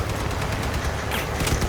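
Rapid automatic gunfire from the vehicle combat video game Crossout, a dense continuous burst of shots heard close and loud.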